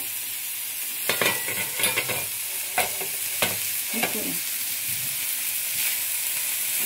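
A pan of frying karela gives a continuous sizzle, broken early by a cluster of sharp metallic clanks and knocks as the lid comes off and the pan is handled. No voices are present.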